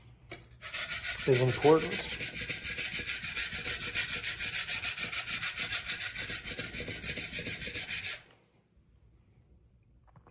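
A chef's knife drawn in steady, repeated strokes across a whetstone, a close, even rasping that runs continuously for about eight seconds before stopping abruptly, with a brief voice near the start.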